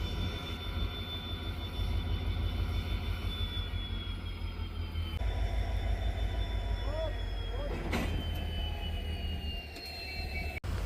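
A train rumbles steadily on a hill route out of Punalur, pushed by a diesel banker locomotive, with deep continuous engine drone and rail noise, a few brief squeals and clanks above the constant roar.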